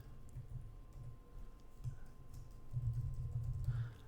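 Soft keyboard typing comes in short clusters of quiet taps, with a steadier run of keystrokes near the end, close by in a quiet room.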